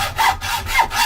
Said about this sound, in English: I've got an 18 teeth per inch blade in, just to make the cutting a little bit quicker